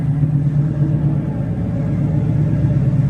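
A 350 engine fitted to an El Camino idles steadily with a low, even rumble, close and continuous with no talk.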